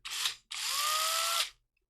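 A battery power drill spins up in a short burst, stops, then runs again for about a second with a steady high whine before cutting off, close and loud.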